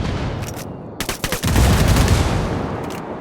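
Gunfire in the video game Ghost Recon Wildlands: a loud burst of rapid, cracking automatic shots in the middle over a dense, booming roar of battle noise, with brief sharp reports at the edges.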